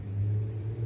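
Steady low rumble of city traffic with engine drone, a continuous mid-loud background wash with no talking.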